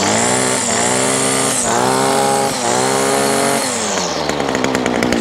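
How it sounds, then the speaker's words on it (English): A Titan TTK587GD0 petrol multi tool engine runs loud and close, a buzzing two-stroke drone that dips and rises in several surges before settling to a lower idle. "So this engine's now been running for a good five to six minutes."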